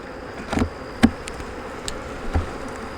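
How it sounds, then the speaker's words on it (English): A constant buzz of honey bees hums in the background, with a few faint knocks and taps, and no voices. "And we got bees showing up here."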